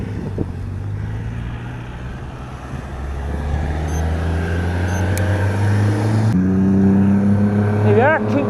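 Vehicles roar along the busy A49 road, with engines rising and passing steadily and loudly under wind buffeting, while a person talks nearby.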